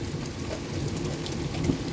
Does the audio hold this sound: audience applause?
no